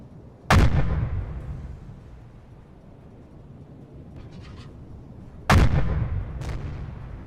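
Warship guns firing in a U-boat video game set off Halifax in September 1944: two heavy, booming blasts about five seconds apart, each with a rumbling decay over low background noise.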